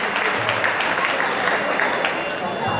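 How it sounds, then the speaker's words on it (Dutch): Moderate crowd applause follows a women's demonstration match, a continuous wash of clapping heard from some distance with a faint voice over the top. "En even proberen een applaus voor allebei de dames."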